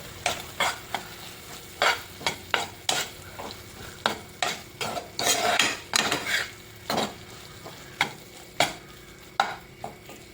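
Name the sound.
stirring and mixing egg and dosa in a pan for kothu dosa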